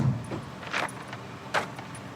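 A bunch of keys jangles in two short, crisp bursts, close by and fairly quiet against a low background hum; no one speaks during the sound.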